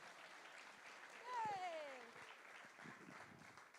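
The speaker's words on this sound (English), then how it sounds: "Another round of applause, folks." Audience clapping at a folk music showcase, a soft, steady wash of applause that swells briefly, with a voice speaking over it throughout.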